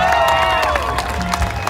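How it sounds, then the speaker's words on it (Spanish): Crowd applause and cheering for Miguel Jiménez's cumbia show, a steady wash of clapping and shouts, with a voice partly audible over it. "Démosle fuertes aplausos a Miguel Jiménez en su cumbia show."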